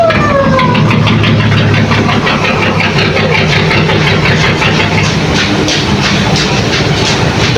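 A nearby engine idles loudly and continuously in a steady, low rumbling drone with a regular pulsing throb, holding an even level throughout with no break.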